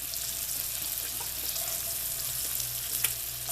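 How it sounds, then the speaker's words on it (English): Sweet potatoes pan-frying in oil give a steady, close hiss and crackle that holds level throughout, with a few soft clinks and small pops and no voices. "We've got everything frying."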